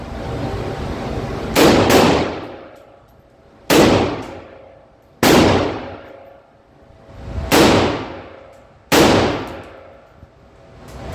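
Six loud sharp gunshots from a Type 81 underfolder rifle, fired one at a time outdoors at irregular intervals of one to two seconds, each with a short ringing echo.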